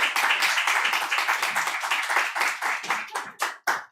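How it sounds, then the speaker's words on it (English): An audience applauds a reader at a university MFA reading series, with steady clapping that thins into a few separate, sharper claps near the end. "Big round of applause"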